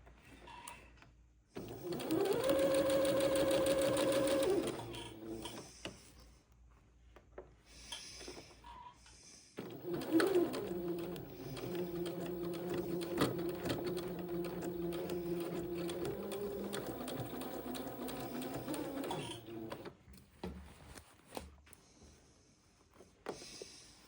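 A sewing machine stitching along a hem and over a thick French seam, steady mechanical whirring in two long runs of several seconds each, with clicks and handling noises between.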